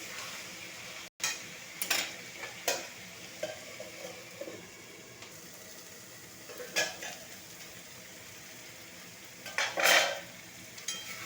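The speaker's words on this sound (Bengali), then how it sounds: "আর একটু নেড়ে নেব ভালো করে।" Chicken kosha is stirred in a sizzling pan, with repeated scrapes and clinks of a spoon against the metal over a low, steady fry.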